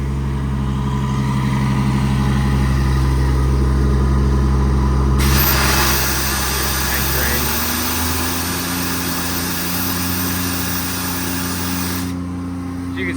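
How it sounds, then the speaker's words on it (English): A 2018 Ford F750 diesel truck with an air compressor idles with a low, steady rumble, then a bright hiss of released air cuts in and the engine rises to a higher idle, while a person talks. "it kicks into high idle when you drain the air, so it can build up quicker"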